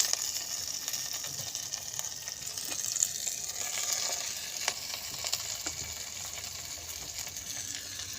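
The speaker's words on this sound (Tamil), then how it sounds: "வெங்காயம் வதங்கின உடனே இந்த கீரை, முருங்கைக்கீரை எடுத்து இதில் போட்டுற வேண்டியதான்." Drumstick leaves fry with onions in a hot pan, giving a continuous close sizzle with occasional scraping stirs, no voices over it.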